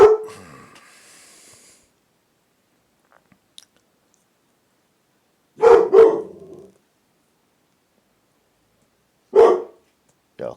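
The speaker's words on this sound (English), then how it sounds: "so I'll just let the dogs do the barking." A few sharp, close dog barks in separate bursts, spaced several seconds apart, with near silence between them.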